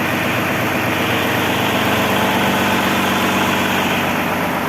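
A Japanese mini tractor engine idles smoothly, with a steady, even throb and mechanical rumble heard close by, continuous and without knocks or speech.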